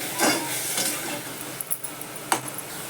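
Tempering spices for dal sizzle and crackle in hot oil, steady frying noise with a few metallic clinks of a spoon against the pan.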